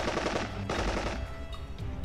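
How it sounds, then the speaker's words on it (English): Rapid bursts of automatic bolter gunfire rattle in a tight, fast stream, pausing briefly before a second volley, as a sound effect for a Warhammer 40K battle. "The Death Company let rip next with bolters blazing."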